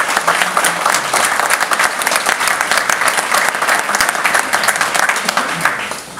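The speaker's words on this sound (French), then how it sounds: "Merci Roland, vous pouvez l'applaudir." Loud, dense applause from an audience at a firefighters' Sainte Barbe ceremony, steady and sustained throughout and heard up close.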